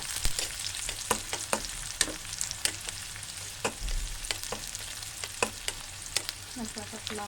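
A cup of chopped onion frying lightly in oil for a spiced chickpea dish, a steady close sizzle broken by sharp clicks and scrapes of a spoon stirring against the pan, with no talk.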